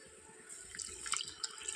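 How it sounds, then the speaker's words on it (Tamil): Water is poured into a pot of goat intestine curry, a faint, soft trickle with a few light drips and splashes over a quiet background. "தேவையான தண்ணியும் சேர்த்துக்கிறேன்."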